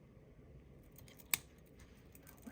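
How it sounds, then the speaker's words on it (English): A single sharp snip as the excess end of a soft memory wire is cut while beading a bracelet, faint and close against a quiet room. "And you just cut away the excess."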